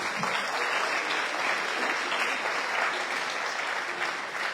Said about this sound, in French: Vous repartirez également avec les applaudissements du public.